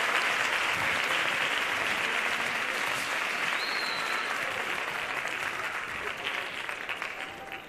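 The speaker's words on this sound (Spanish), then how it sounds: "si le damos un fuerte aplauso" Hall audience at a choir and carol contest gives a strong round of applause for a youth church choir, sustained dense clapping at moderate level that thins a little at the end.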